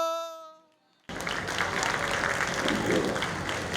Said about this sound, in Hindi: बहुत बहुत शुक्रिया आपकी तालियों के लिए